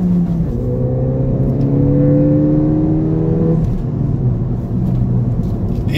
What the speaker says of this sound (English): The intake sounds really good.